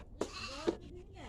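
Two short goat bleats about half a second apart, fairly faint against a quiet background with low hum.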